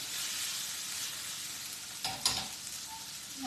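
Artichoke pieces sizzle softly in a hot pan for an artichoke tatin. A steady faint frying hiss is broken by two quick scraping stirs near the middle.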